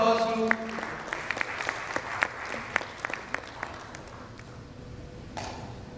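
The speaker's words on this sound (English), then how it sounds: "A big round of applause for Amish" An audience at a customer experience summit and awards panel applauds a panelist, with scattered distinct claps over a murmuring room that gradually thins and fades, plus a brief tone near the end.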